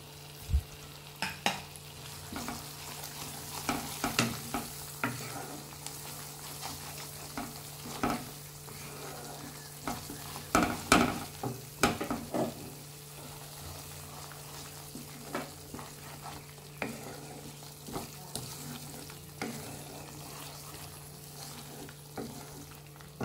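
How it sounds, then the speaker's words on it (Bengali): Chilli, turmeric, cumin and coriander fry in a pan with spice paste under a low, steady sizzle, broken by repeated sharp scrapes and clacks of a spoon stirring close by. "তাই মিনিট খানেক কষে নিয়েছি।"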